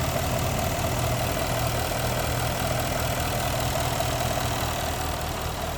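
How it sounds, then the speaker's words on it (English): Steady low rumble of a 2021 Jaguar F-Type First Edition 5.0 V8 P450 AWD idling with the bonnet raised, a smooth, even drone heard close up without pause or voices. "Nice, smooth engine."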